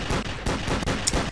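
Rapid gunfire in the blocky online shooter Brick Force, with loud shots cracking in quick succession at a steady, almost automatic rhythm, close up and with no talking over them.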